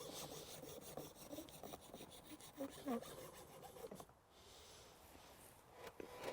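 A hacksaw rasps through a branch of elder wood in steady back-and-forth strokes, close but fairly quiet, with a brief lull before the cutting resumes.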